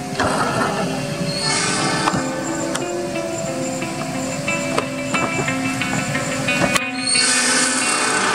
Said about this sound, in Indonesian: Kereta api Serayu pagi bersilang dengan kereta api Lodaya di stasiun Awipari.